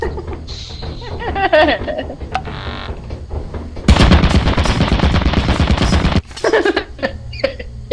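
A long, loud burst of automatic turret fire in Lethal Company rattles nonstop for about two seconds, with scattered game noises and a brief laugh-like sound before it and a short sputter after.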